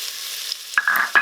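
Onions hitting hot oil in an Instant Pot give a few sudden crackling sizzles over a faint background hiss, close and brief.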